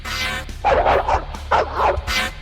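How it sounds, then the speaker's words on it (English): Blink dogs attacking: a dog yips and barks in several quick, loud, close bursts with whimpering tones, no talk. "Both blink dogs attack."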